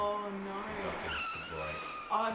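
A car braking hard with tires skidding and squealing, heard amid background music and voices, rising slightly toward the end.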